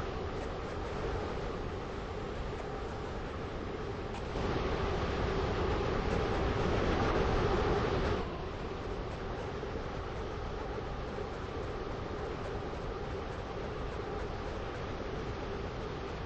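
A Stepford Connect train in a video game runs steadily, a continuous rumbling roar of wheels and motors with a brief louder stretch midway.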